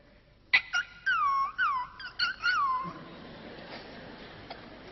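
A performer at a concert imitates a small dog whimpering, voicing a quick series of high, thin whines and yelps, close and clear over quiet room noise.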